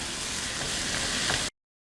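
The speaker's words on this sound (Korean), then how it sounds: "나무 주걱이나 네, 실리콘 주걱을 사용해서 이렇게 볶아주시면 됩니다." Curry ingredients stir-fried in a pan with a wooden or silicone spatula, producing a steady, loud, close sizzle with soft scraping for about a second and a half before cutting to silence.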